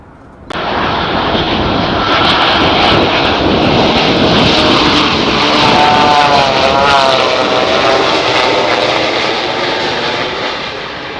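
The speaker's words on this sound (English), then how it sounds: "Here's another example of a 787 coming in at a Boeing test facility. And listen as it flies by." Boeing 787 airliner passing overhead at a test facility, a loud continuous engine roar and whine that starts abruptly, swells as the jet flies by with a shifting tone, then slowly eases off.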